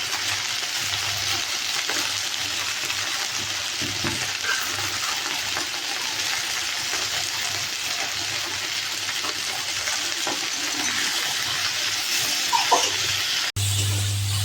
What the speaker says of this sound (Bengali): ভেন্ডিগুলো ভেজে নেব।